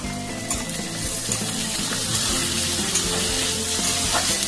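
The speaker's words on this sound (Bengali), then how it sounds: "কুচিয়ে রাখা টমেটোটা দিয়ে দিচ্ছি। 1 চামচ মতো নুন দিয়ে দিচ্ছি, টমেটোটা আর পেঁয়াজটা নরম হওয়ার জন্য।" Chopped tomato and salt drop into onions frying in a pan, giving a strong close sizzle with scraping and stirring clatter, steady and busy throughout, with no voices.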